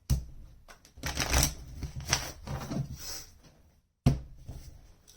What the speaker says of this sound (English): Let's get a shuffle in here.